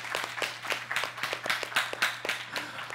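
Members of a church youth congregation in Mokpo, Korea, clap in a brisk, fairly even rhythm of sharp claps. A low electrical hum runs steadily beneath the applause.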